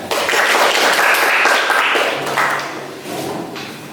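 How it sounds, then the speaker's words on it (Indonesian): Applause from a classroom of students for a classmate: a burst of clapping hands that starts loud, holds for a couple of seconds, then thins out and fades with a few scattered claps. "kita kasih aplaus kepada temannya ya"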